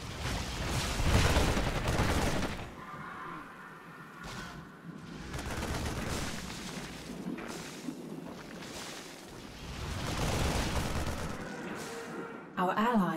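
Rapid gunfire and explosions from StarCraft 2 co-op combat rattle across the battlefield in continuous bursts, with a game announcer's voice speaking over the fighting.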